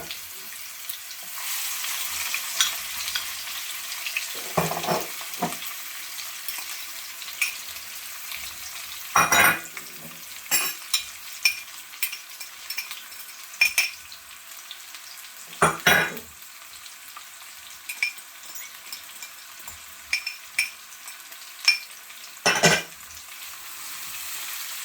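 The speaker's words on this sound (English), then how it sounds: "I'm just gonna fry up these vegetables a little bit" Vegetables frying in a pan for Jamaican brown stew fish: a steady hiss of sizzling oil runs throughout, broken by several louder bursts of stirring and scraping.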